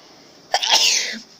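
A single sharp sneeze, close and fairly loud, from a person with flu and asthma, bursting out after a quick inhaled breath and trailing off within a second.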